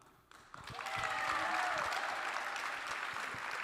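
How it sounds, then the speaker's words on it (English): Crowd of students applauding at a new student convocation, clapping building quickly after a brief quiet start and holding steady, with some cheering over it. "Do a round of applause again"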